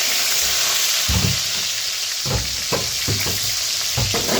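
Tomatoes dropped into hot oil with nigella seeds, sizzling in a steady hiss with several sharper crackling bursts and stirring scrapes, close and fairly loud, no voices.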